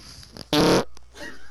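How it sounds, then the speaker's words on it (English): A single loud, blaring fart blasts straight into a microphone for about a third of a second, standing out sharply against quiet background noise. "He farted on his mic"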